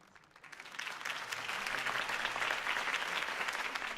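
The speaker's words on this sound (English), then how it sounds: "could have heard that applause" Applause in the video game Batman: The Telltale Series swells quickly from a few claps into a dense, steady ovation from a large crowd, sustained throughout.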